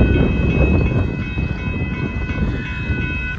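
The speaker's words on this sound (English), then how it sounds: "Northbound Union Pacific mixed rate with three mid DPUs" A northbound Union Pacific mixed freight train with mid-train distributed power units rolls past at Dittmar Road in Austin, Texas, a loud close rumble with steady wheel rattle and high metallic squeal tones throughout.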